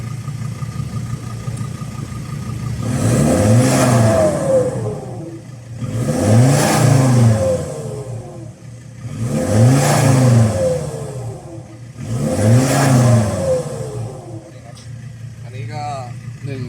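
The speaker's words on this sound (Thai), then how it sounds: "เดี๋ยวผมจะเล่นเครื่องให้ทุกท่านฟังนะครับ" A Ford Everest 3.2 Titanium with an aftermarket HKS carbon-tip exhaust revs hard four times in a steady rhythm, each throaty surge rising and falling back to a rumbling idle, loud and close with a deep exhaust note.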